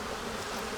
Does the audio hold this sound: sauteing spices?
no